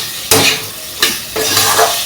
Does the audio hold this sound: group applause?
no